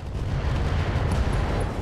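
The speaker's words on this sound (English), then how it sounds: "Gauss rifle explosion." A Gauss rifle exploding in the mech game RogueTech, a short, heavy, rumbling blast that holds steady for under two seconds.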